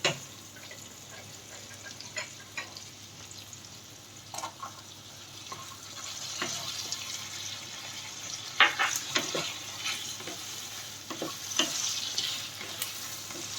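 Chopped carrots stir-fried over a high flame in a pan for penne pasta: a steady sizzle with irregular scraping and clinking stirring strokes that grow busier toward the end, no voices.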